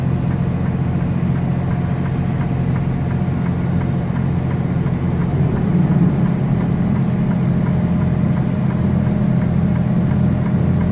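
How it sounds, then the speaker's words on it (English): A Freightliner truck climbs a mountain grade with its engine fan running. A steady, unbroken low drone is heard from inside the quiet cab throughout. "So pull the grade, engine fan, still a quiet cab."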